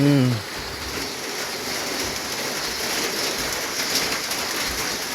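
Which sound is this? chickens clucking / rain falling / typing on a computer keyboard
rain falling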